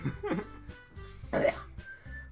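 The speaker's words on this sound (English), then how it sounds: "That sounded less like a cough and more like a lazy, like, jump scare attempt" A cough sound effect in the Doki Doki Literature Club video game, two or three short raspy coughs with a throat-clearing quality, fairly close, over a low background tone.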